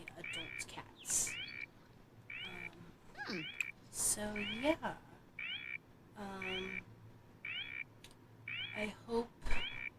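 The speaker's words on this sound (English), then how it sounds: "we have a cat. Cat named Fiona that Miss Aspen adopted" Fiona, an adult adopted cat, meows repeatedly in short, fairly close calls at a steady pace while a person talks briefly over the sounds.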